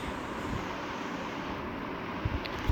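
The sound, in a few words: airplane landing in Gangster Vegas video game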